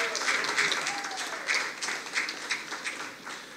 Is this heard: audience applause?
yes